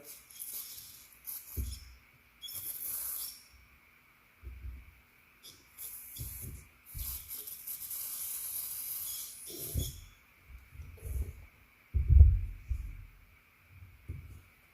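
Short hissing bursts of aerosol cleaner spraying a Zenith carburetor from a Farmall C tractor come and go in uneven pulses, with brief gaps and some low knocks between them.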